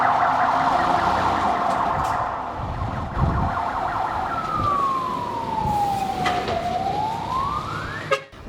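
A fire engine siren wails on an emergency call-out during a windstorm in Poland, loud and close, holding a steady tone and then sweeping down and back up in a long glide near the end.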